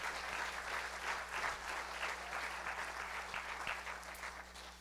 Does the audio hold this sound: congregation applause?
yes